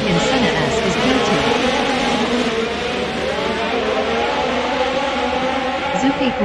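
Racing video game F1 cars at the race start at Interlagos, São Paulo, a dense, steady roar of many engines droning and revving together at high volume, with a commentator's voice running over it.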